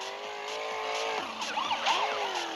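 A car drifting in the mobile game Smashy Road, with a steady engine drone, a sliding tire squeal that rises and warbles, and short siren-like sweeps, loud and continuous.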